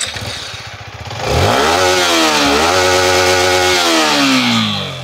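A Yamaha MT15 motorcycle, carrying the R15's engine, idles with a loose clatter and then revs hard into a loud, sustained roar that rises and holds before settling, close and alone.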